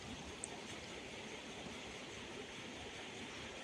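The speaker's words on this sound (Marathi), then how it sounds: "अगदी अर्धा कप पाणी टाकायचं आहे" Water pours into a pan for a dhokla tempering with asafoetida, a steady, even rush that holds at constant strength throughout, with no voices.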